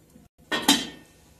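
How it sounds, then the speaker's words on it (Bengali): A lid set down on a kadai (wok) of hot water with a steaming stand inside, for steaming a tiffin box of prawns: a short metallic clank followed by a ringing clatter, close and fairly loud, with no talk. "দিয়ে কড়াইয়ে ঢাকনা দিয়ে দেবো।"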